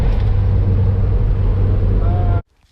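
Mercedes Sprinter T1N van engine accelerating hard, with a new turbo and actuator, a loud steady roar for over two seconds that cuts off abruptly into near silence.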